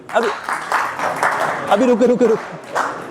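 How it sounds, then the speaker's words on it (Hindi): A seminar audience claps for themselves during a personality grooming session, a steady wash of applause running through the clip while a voice speaks over it. "पहले ये अपने लिए तालियां बजाएंगे"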